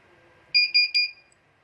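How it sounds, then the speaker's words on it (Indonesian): A member card reader on a point-of-sale cashier setup gives three quick, bright electronic beeps in close succession to signal it is ready, clear and alone against near silence. "Ketika alat sudah mengeluarkan suara beep, itu artinya alat sudah siap untuk membaca member card."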